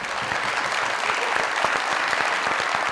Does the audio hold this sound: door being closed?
no